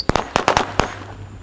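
A pack of Tikus Santor firecrackers going off outdoors, a quick cluster of sharp, loud cracks and pops spaced unevenly over about a second, then a short fading tail with no talking.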